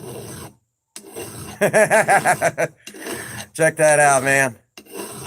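A file rasps against a steel axe head in short, rhythmic strokes during reshaping. Someone speaks between the strokes, and a louder run of rasping follows.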